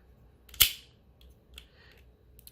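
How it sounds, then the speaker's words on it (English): An Energon Igniters Starscream toy's spring-loaded heads release and flip up with one sharp plastic snap, followed by a few faint small clicks in quiet. "As soon as you get something out of the way, they release and flip up."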